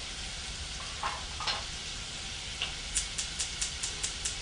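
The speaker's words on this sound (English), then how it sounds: "I'm going to brown it in butter as well." Okra browning in butter in a pan gives a steady close sizzle and frying hiss, with light stirring scrapes and a series of quick ticking taps near the end.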